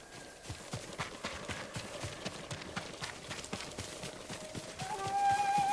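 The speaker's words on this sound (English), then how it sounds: "Horses, they're coming for us." Horses galloping in the PS5 game Ghost of Tsushima, a rapid, rolling patter of many hoofbeats, fairly close and continuous, with a tonal game sound rising near the end and no speech.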